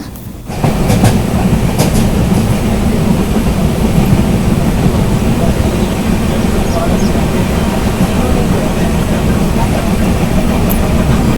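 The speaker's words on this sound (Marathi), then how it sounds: "आणि इथे ट्रेनचा स्पीड पण कमी झालेला आहे" Jan Shatabdi Express (12051) on the Dadar to Ratnagiri line, slowing down: a steady, close rumble of wheels and carriage with faint clickety-clack rhythm, continuous and even throughout, with some talking over it.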